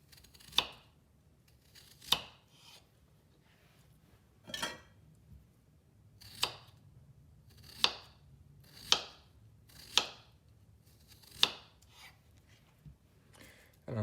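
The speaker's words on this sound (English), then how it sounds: "On the carrots, we're gonna cut them in little discs of almost about a centimeter." A knife slicing carrots into thin discs on a cutting board for a winter tagine, about a dozen crisp, evenly spaced chops heard close and alone.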